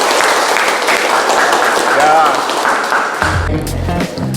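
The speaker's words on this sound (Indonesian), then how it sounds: "tepuk tangan dulu" A class of students applauds in a brisk burst of clapping that fades near the end as a voice speaks briefly.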